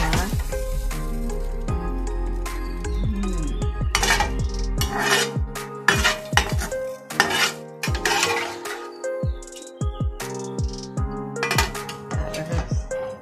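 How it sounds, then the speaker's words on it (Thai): A spoon scoops sweet and sour chicken stir-fry onto a plate, giving repeated clinks and scrapes of metal on ceramic in irregular bursts, close and fairly loud, with a few spoken words between them. "เราตักใส่จานเสร็จเรียบร้อยแล้วนะคะ"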